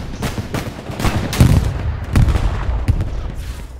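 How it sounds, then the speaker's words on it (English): Battlefield combat in a video game, with a string of loud booms and sharp gunfire cracks close by, heavy rumbling between the blasts and the bursts spread unevenly across the clip. "Beautiful explosion. Even though it's low resolution."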